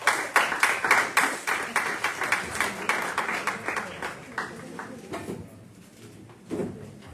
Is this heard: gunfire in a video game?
no